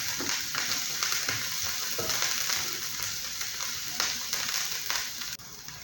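Onion and garlic frying in a pan, being browned before sheep's liver goes in, give a steady close sizzle with faint scraping stirs throughout and no talking.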